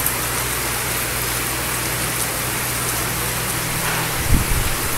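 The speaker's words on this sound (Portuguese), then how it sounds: "olha, chuvarada no bairro de Imbaré" A heavy rain shower pours over the Embaré neighbourhood of Santos as a loud, even, continuous hiss and roar, with a brief low thump just before the end.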